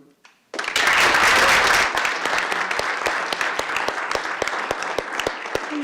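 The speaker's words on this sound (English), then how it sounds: "Members of the public, mayor and council, please give your voice and applause to your new Mesquite District Council member." After a brief hush, an audience at a city council meeting breaks into loud, sustained applause for a new district council member, with the clapping thinning slightly toward the end.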